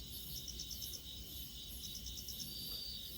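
Crickets chirp in repeated rapid pulsed bursts over a steady outdoor background, moderately loud and without any voices.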